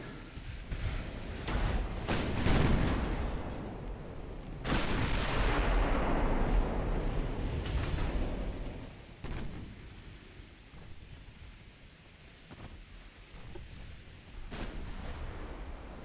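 Battleship turret guns fire in the naval game Ultimate Admiral: Dreadnoughts, set in 1918. Several heavy booming salvos roll out, one long rumbling blast and a few sharper distant reports, with no voices.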